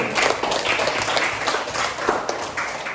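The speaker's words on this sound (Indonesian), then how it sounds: "Ya, tepuk tangan untuk kelompok 1." Classroom applause for a student group during a lesson, a dense patter of many hands clapping steadily near the listener for several seconds.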